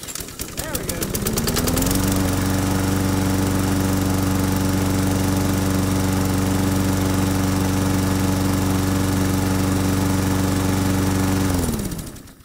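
A lawn mower engine, recently tipped on its side, starts and roars loudly and steadily for about ten seconds at close range, then is shut off and winds down.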